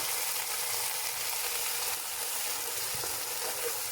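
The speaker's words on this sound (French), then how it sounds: "maintenant on va mettre nos tomates avec les oignons et on va remuer" Tomatoes and onions fry in a pan while being stirred, giving a loud, continuous close-up sizzle with faint scraping movements, and no voices.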